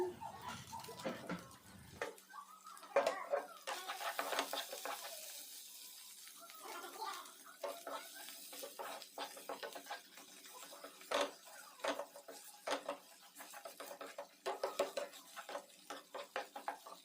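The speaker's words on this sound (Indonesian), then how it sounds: "Kita aduk-aduk lagi" A spoon stirs a brulee bomb mixture in a pot, producing soft repeated scrapes and light taps against the pot along with faint watery sloshing, close but quiet, with no voices.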